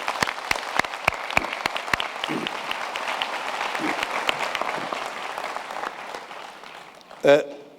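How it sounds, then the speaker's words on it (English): Applause from a graduation ceremony audience, a dense wash of clapping with a few sharp claps up front, fading toward the end before a brief louder burst near the close. "Let's give them a round of applause, ladies and gentlemen"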